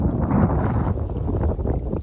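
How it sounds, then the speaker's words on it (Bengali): Strong wind buffets the microphone with a steady roaring rush over a village wetland in Bangladesh, loud and close, with no voices. "আজকে অনেক বাতাস হচ্ছে"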